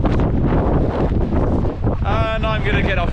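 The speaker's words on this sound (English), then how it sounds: "it's extremely windy" Strong wind roars across a Welsh mountain top, buffeting the microphone with a loud continuous rush, and a voice speaks briefly over it near the end.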